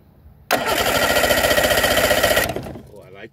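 An engine cranks over on the starter during a compression test with a gauge fitted to a cylinder, giving a loud, rhythmic chugging burst of about two seconds that stops abruptly into quiet.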